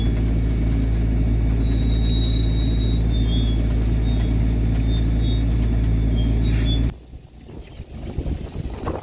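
A farm vehicle rolls slowly through a neighborhood during corn harvest, a loud, steady close-up engine rumble and drone that cuts off abruptly near the end, leaving quieter background noise.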